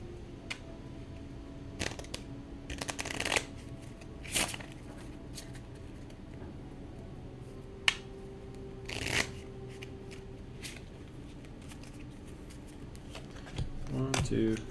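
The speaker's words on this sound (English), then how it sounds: "That's not really a good shuffle." Quiet shuffling of a deck of cards for a solo Final Girl board game, several short riffling bursts separated by pauses, close and soft, with occasional murmured speech.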